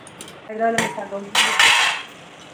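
A metal lid clanks and rings as it is set onto a pot of simmering ridge gourd egg curry, with a couple of close metallic knocks and scrapes.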